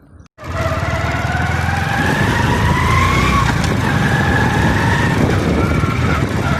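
A motorbike rides along a village road, its engine starting after a brief pause and then holding a loud, close, steady drone with rising and shifting pitch as it gathers speed.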